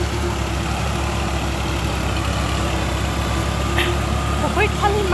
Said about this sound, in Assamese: এইফালে ট্ৰেক্টৰ হাল বাই আছে